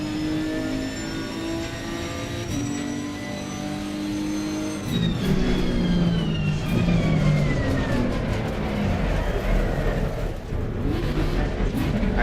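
A car engine in a sim racing game drones with steady harmonic tones, then shifts and revs higher around the midpoint. It runs loud and continuous, with rising and falling pitch sweeps as gears change.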